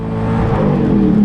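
A drift car revs hard at the Slovenian drift championship, its engine a loud, close, sustained roar that holds and rises slightly, with no talking over it.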